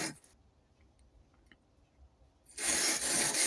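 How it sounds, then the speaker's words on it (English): A clamped wire brush scrubs old paint and cement off old tools, a loud, continuous rasping scrape that starts abruptly near the end after quiet, low handling noise. "What I've done is just clamped up a wire brush in my trusty clamp, and we're going to run this over."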